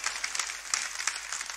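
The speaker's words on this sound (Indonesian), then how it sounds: "Kasih tepuk tangan boleh buat asyir parkir." An audience applauds for parking attendants during a church sermon; a brief, moderate patter of many hands clapping at once, with no talk over it.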